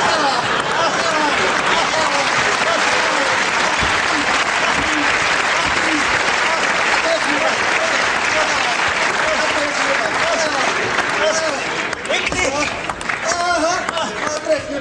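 Loud, sustained audience applause at a table tennis show, dense clapping mixed with crowd noise and babble that carries steadily for about twelve seconds before thinning slightly near the end.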